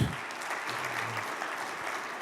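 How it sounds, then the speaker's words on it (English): A room full of people gives a round of applause for the hotel staff at the Desert Springs Marriott, a steady, dense wash of clapping heard at a distance and fairly quiet. "how about one last round of applause for all the staff here at the Desert Springs Marriott"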